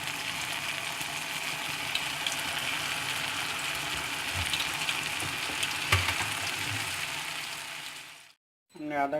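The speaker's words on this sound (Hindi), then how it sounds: "इस तरह हम पकोड़े फ्राई करते हैं।" Pakoras for dahi bara fry in hot oil with a steady, close, dense sizzle that carries on evenly, then cuts out briefly near the end before resuming.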